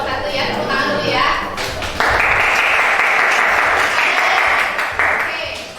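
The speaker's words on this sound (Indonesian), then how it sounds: "Tepuk tangan dulu ya" Students in a classroom applaud a group after its presentation, a loud, close flurry of clapping that swells sharply partway through and holds before easing off, with voices faintly underneath.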